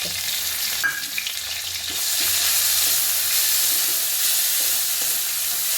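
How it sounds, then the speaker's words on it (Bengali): Oil sizzles loudly in a pan while a utensil stirs and scrapes through crushed ginger, the frying growing stronger and steady. "আদা দিয়েও কিছুক্ষণ একটু নাড়াচাড়া করব।"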